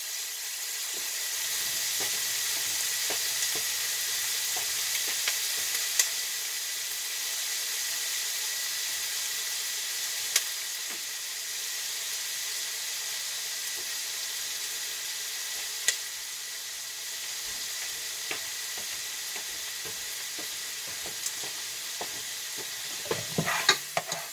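Onions soften in a pan for homemade spaghetti sauce, a faint, even sizzle holding steady throughout with occasional light clicks and a burst of stirring scrapes at the very end.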